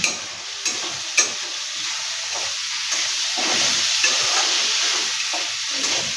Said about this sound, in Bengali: একটু হলুদ আমি দিয়ে দিলাম এর মধ্যে, আর একটু দেবো, একটু দিয়ে দিলাম। হালকা একটুখানি এটা নেড়ে নেবো।